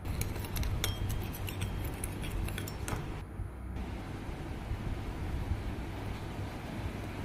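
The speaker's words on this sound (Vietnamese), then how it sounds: "Sau đó mình sẽ khuấy đều cái hỗn hợp này lên." A spoon stirs a fish sauce mixture in a bowl, making a quick run of light clinks against the bowl at first. The clinks then fade into steady background hiss.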